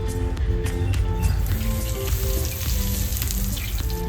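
Asafoetida dropped into hot oil in a kadai for chicken curry, making a loud, continuous close sizzle and crackle with faint music underneath.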